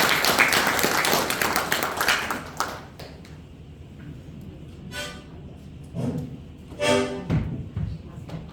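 Scattered audience clapping at a new-year workshop, a burst of applause that fades after a few seconds into a quiet room, followed by a few isolated claps and short taps.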